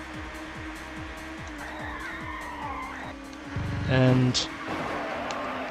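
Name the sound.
race car skidding and spinning out in TOCA Touring Car Championship video game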